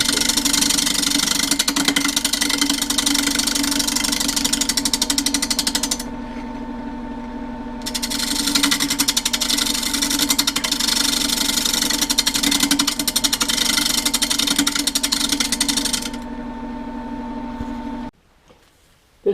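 A wood lathe making an interrupted cut on a live edge walnut bowl, with a steady motor whine under a gritty, chattering cutting noise that stops briefly midway, resumes, then cuts off near the end.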